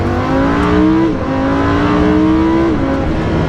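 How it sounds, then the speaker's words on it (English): A Lamborghini Huracan engine revs hard and loud in a manual mode, its pitch climbing steadily and then dropping sharply at two paddle-shift gear changes, with no talk over it. "The shifts are just the second you click the paddle, you're upshifting or downshifting."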